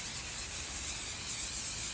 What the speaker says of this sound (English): You're going to spray the interfacing.